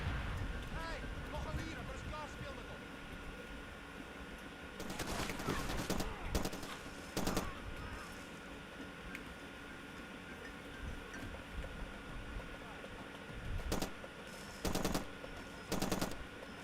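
An LMG light machine gun firing in a video game, in short rattling full-auto bursts, two clusters separated by a quieter stretch, with someone talking over a steady game background.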